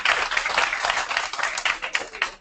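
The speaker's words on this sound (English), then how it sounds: "You can kind of make some noise and give them some applause." Audience applause welcoming an electro-acoustic Sufi music group at a community college event, a steady broadband patter of clapping from a crowd with distinct individual claps standing out, fairly loud and without talk.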